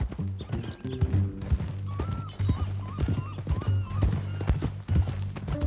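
Horse hooves clip-clop at an even walking rhythm in Red Dead Redemption 2, loud and close, with a brief snort or whinny and faint background tones under the steady steps.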